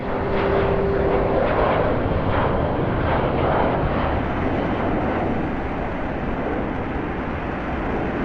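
Steady, loud airplane engine drone fills a cabin carrying 150 soldiers flying to Vietnam, a continuous broadband roar with no voices.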